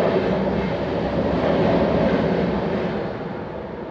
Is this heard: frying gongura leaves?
no